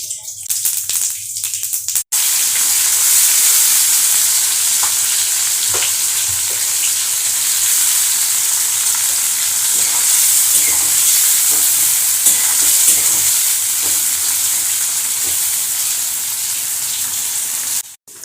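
White cumin seeds and bay leaves fry in hot oil with a loud, steady sizzle and crackle close up. It begins right after a brief quieter moment and keeps going without letup.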